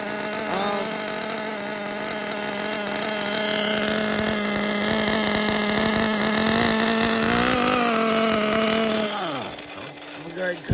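A newly built engine runs steadily during its first break-in, a loud continuous drone with a few shifts in pitch, then sputters and winds down near the end as it is cut off before running out of gas.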